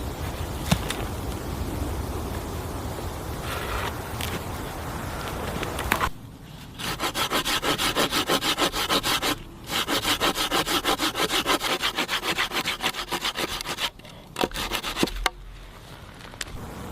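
A hand saw cuts through a log outdoors at a jungle camp, with close, rhythmic back-and-forth rasping strokes that pause briefly between bursts.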